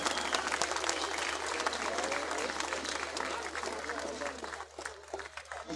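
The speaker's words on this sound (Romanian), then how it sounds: "Îmi place că aplaudați mai mult la Doloave." A crowd applauds steadily at a Romanian folklore festival in Vojvodina, Serbia, dense sustained clapping that stays loud throughout and thins slightly toward the end.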